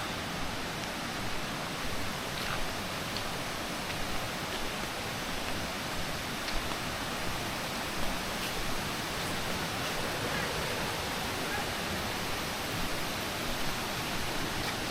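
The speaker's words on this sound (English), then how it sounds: "You can hear the water up here." Constant, loud rushing water near Daranak Falls filling the whole clip, a dense roar like a nearby stream or falls, with no pauses.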